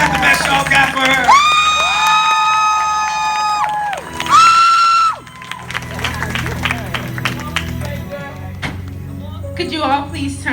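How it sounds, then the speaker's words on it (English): Church congregation clapping, cheering and whooping for a 17-year-old preacher, a loud lively crowd burst under a preacher's voice, with sustained organ or keyboard chords ringing through the first half before the noise settles into scattered murmuring. "Come on, clap your hands for her again."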